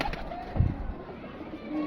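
A pigeon gives a single soft low coo, brief and fairly faint, over a quiet steady background.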